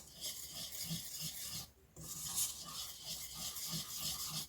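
Rhythmic scraping strokes of a utensil against batter in a bowl repeat steadily, pausing briefly midway before resuming; close and fairly quiet.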